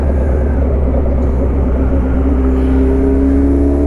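A Suzuki B-King motorcycle engine runs loud and close, a thick sustained drone with a rising tone toward the end as the revs climb.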